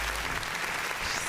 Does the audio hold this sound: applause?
yes